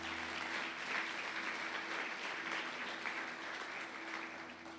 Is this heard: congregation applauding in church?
yes